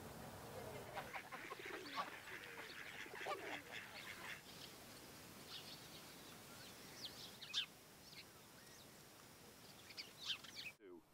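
Wild ducks and geese at the Villafáfila wetland in Spain, with repeated quacks and honks overlapping in a busy chorus at moderate distance, thinning out toward the end, with a voice briefly heard.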